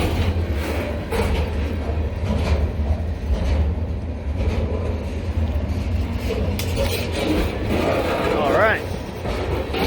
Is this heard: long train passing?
yes